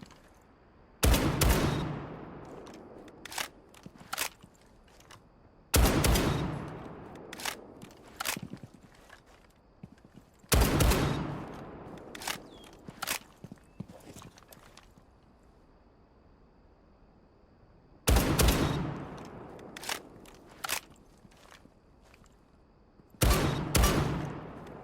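Assault rifle fire in Rainbow Six Siege, with five loud bursts of rapid shots at regular intervals, each followed by clattering echoes and fading tails between volleys.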